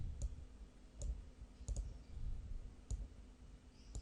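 A computer mouse clicks while someone traces a photo into a cartoon in a drawing program: sharp, close taps at irregular intervals over faint room hum, including a quick double click.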